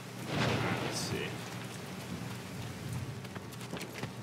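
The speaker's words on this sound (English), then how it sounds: "Let me inside out of the rain." Rain falls steadily with rumbling thunder in The Division 2 (Warlords of New York), a continuous wet hiss with a louder swell early on and brief sharper cracks later.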